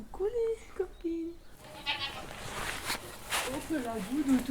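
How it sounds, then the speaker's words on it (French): Goats bleat at feeding time on a small farm, several short wavering cries near and far, mixed with a person talking, footsteps and shuffling in the pen. "on va aller nourrir les chèvres"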